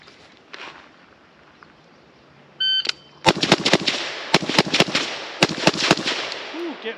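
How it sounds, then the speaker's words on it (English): Sig Sauer 716i .308 rifle fired in a nine-shot drill, a timer beep followed by a rapid series of sharp, loud gunshots in irregular clusters, close by, with a soft metallic clink near the end. "we're gonna try the 9-shot drill from Modern Tactical Shooting using this Credo and the Sig 716i"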